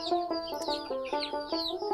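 Broiler meat chickens, about 48 to 50 days old, in a farm shed, clucking in a quick rhythmic series of close, clear calls.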